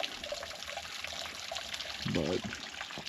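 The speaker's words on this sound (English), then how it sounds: "Even a little waterfall." A little rain-fed waterfall trickles in a continuous light splashing wash outdoors in winter, with a brief louder gurgle near the end.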